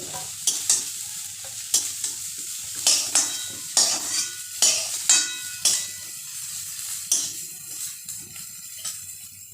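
Soybean chunks frying and being stirred in oil in a pan, with repeated scraping strokes of a utensil over a steady close sizzle, no talking.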